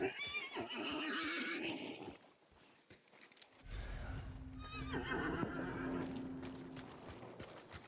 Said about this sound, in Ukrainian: Злякався кінь.